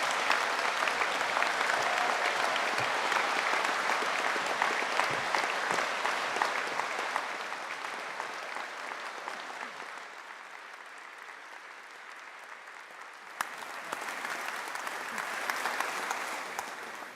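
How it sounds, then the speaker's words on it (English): An audience at a university summer graduation ceremony applauds the graduates, a dense sustained wash of clapping that fades a little midway, then swells again near the end. "let's put all our hands together for a big applause to all our"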